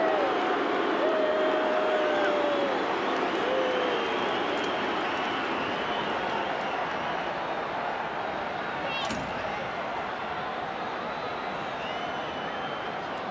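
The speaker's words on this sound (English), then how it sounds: "The crowd more than upset with the decision." A rugby league stadium crowd at a 1991 major semi-final between North Sydney Bears and Penrith Panthers reacts to a penalty decision with a loud, sustained murmur and roar while a commentator talks over it.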